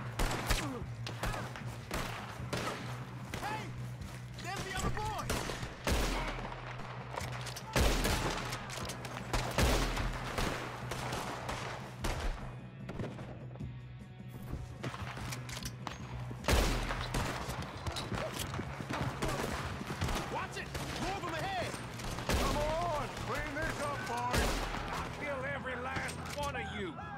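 Gunfire during a train robbery in the Western video game Red Dead Redemption 2, sharp repeated shots and volleys scattered irregularly over a long stretch, some close and loud, with occasional voices between them.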